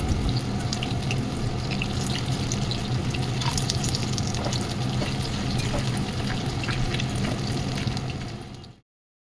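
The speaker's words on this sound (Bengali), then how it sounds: "ফিশগুলোকে এরকম করে ভেজে নেব" Small fish pieces for chili fish fry in hot oil, giving a dense, steady bubbling sizzle that holds close and even for several seconds, then cuts off abruptly.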